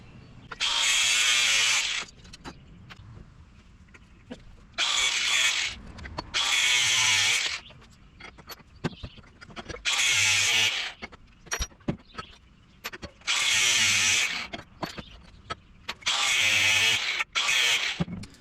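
A power tool cuts through a carriage bolt during a trailer storage box install. Six loud, sustained cutting bursts of about two seconds each are separated by quieter pauses with small clanks, and there is no talk.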